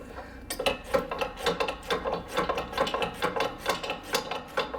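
A wrench and channel-lock pliers work a front stabilizer link off a car suspension, a quick run of sharp ratcheting clicks and metal scrapes in an uneven rhythm, close and fairly quiet.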